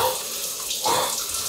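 Water pours for a cold shower in a dense, steady hiss of spray, loud and close, swelling slightly partway through with no voices present.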